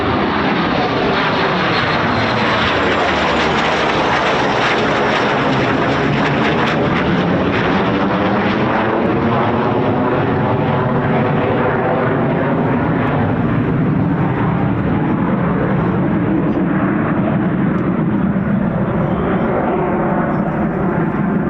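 Eurofighter Typhoon FGR4 jet flying circuits over RAF Coningsby, a loud, continuous engine roar that fills the whole stretch and slowly shifts in pitch as it passes, with no voices.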